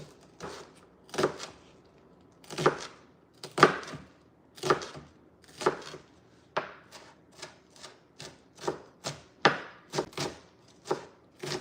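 A knife chops peppers and onion on a cutting board for Chinese five-colour pepper chili oil, steady close thuds in a loose rhythm of about a dozen strokes, with no voices.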